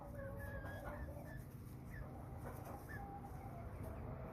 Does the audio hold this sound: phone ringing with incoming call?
no